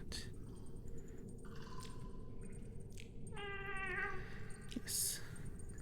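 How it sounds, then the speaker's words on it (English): In the video game Tchia, a cat lets out several drawn-out, wavering meows over a low steady background hum, fairly close and moderately loud. "Oh, here's the cat."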